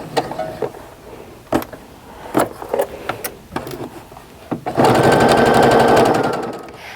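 Sewing machine stitches a quarter-inch seam on a mug rug block, starting after several sharp clicks and taps and then running in a steady rapid buzz for about two seconds before slowing.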